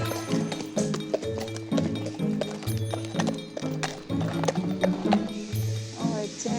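Hooves of a horse clip-clop at a walking pace along a rural road in Cantal, France, a clear, close, regular rhythm, with people chatting in French over it.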